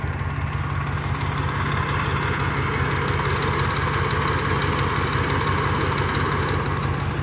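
A Dodge Dakota pickup idles close by with a steady, rhythmic low rumble and a faint ticking pulse, running continuously with no talk over it.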